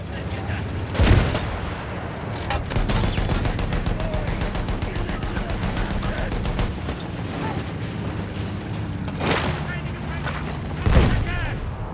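Battlefield 1 combat: distant machine gun fire rattles in a continuous low stream, broken by two heavy booming blasts, as a soldier's voice calls out over the din.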